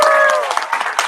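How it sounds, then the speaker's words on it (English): An audience at a talk bursts into a brief, loud round of applause with clapping and a few raised voices, filling the short moment. "Just give me a big old round of applause."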